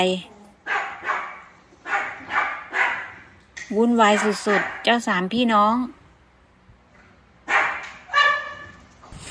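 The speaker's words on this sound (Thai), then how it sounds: "ทั้งเสียงเห่า เสียงตื่นเต้นดีใจ" Dogs bark and yip excitedly in repeated bursts, mixed with high whining and a person talking over the commotion.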